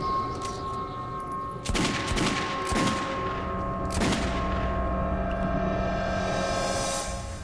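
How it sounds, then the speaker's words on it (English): Gunfire in Metro 2033 Redux: loud, booming shots bursting several times against a steady ringing drone, with no talking. "Who's shooting?"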